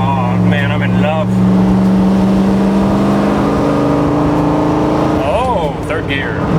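A 1967 Corvette 427 Tri-Power V8 drones steadily at cruising speed, a low engine hum filling the cabin throughout while someone speaks over it.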